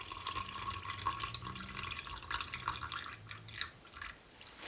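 Water is poured into a plaster mix, a faint continuous trickle with scattered drips and light splashes that fades slightly toward the end; no talking.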